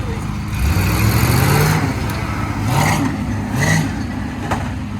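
A CJ5 Jeep backing up, its engine revving in three rising surges over a steady low idle, close by with some clatter.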